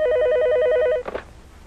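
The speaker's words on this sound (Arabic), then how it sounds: "أنا سأجيب على الهاتف" A cartoon telephone bell rings in a steady, rapid electronic trill for about a second, then cuts off as the receiver is picked up with a brief clatter, leaving quiet room tone.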